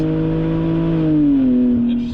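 An Audi Allroad downshifting and accelerating on the road, its engine note a steady, loud drone with clear harmonics that dips slightly in pitch midway, heard from inside the car with no talking.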